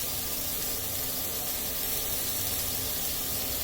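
Vegetables stir-frying in a pan, a steady broadband sizzle and hiss that runs continuously without pause, fairly close and even in level.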